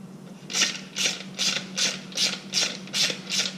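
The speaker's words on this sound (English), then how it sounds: "And then your 1/4 drive. And you just tighten it up." A 1/4 drive ratchet clicks in seven evenly spaced strokes, close and fairly quiet, tightening a Jims 5518 bushing tool on a Harley Touring shift lever over a low steady hum.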